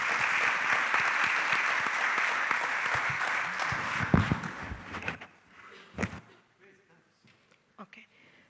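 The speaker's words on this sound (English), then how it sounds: "We give them a round of applause." Audience applause for panelists at a conference session, a loud sustained burst of clapping that fades out after about five seconds, followed by scattered knocks and room noise.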